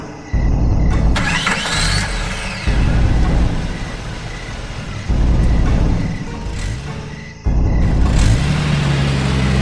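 A car engine cranks and starts repeatedly, then rumbles steadily, with several cycles of starting and running at close range.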